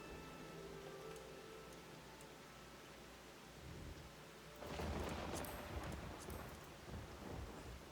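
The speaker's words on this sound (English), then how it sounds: "It is raining here." Rain falls in the video game Final Fantasy XIV as a steady hissing patter, and a deep rumble of thunder swells in midway and lingers under the downpour.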